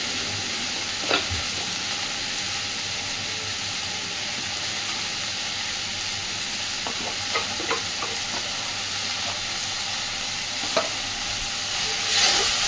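Mustard paste ground with a pinch of salt frying in a hot pan, a steady broad sizzle throughout with scattered small pops and spatters, growing a little louder at the very end.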